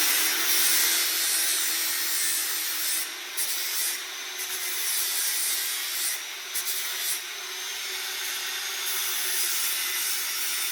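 A steel horseshoe is filed or rasped to put a taper on it, giving a continuous close, harsh scraping with slight surges in rhythm and no speech.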